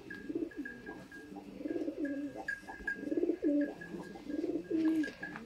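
Sialkoti fancy pigeons coo in soft, repeated rolling phrases that come in rhythmic bouts, fairly quiet and close by, with faint chirps in the background.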